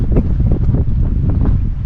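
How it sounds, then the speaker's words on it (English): Strong wind roars and buffets the microphone at Douglas Pass, over 8,200 feet up, a steady low rumble with gusty swells and no speech. "Oh boy, a lot of wind up here."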